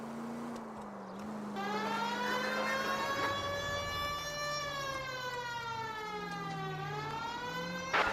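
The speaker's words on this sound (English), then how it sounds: "You know we've got a siren, Phelps." A video game police car siren wails steadily with a rising and falling tone, loud and continuous over a low engine rumble.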